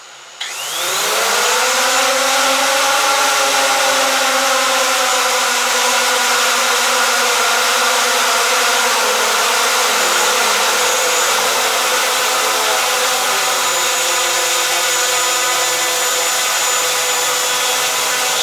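Hubsan Zino drone motors spin up and hold at idle, a steady close whine with layered tonal harmonics that stays loud and even for the whole stretch.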